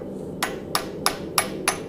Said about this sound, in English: And I'm using a really lightweight hammer to spread this out.